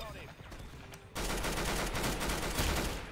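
Rapid gunfire in the Roblox game Arsenal bursts in loud and dense after a quieter first second, a continuous stream of shots that sounds more like automatic fire than single pistol rounds.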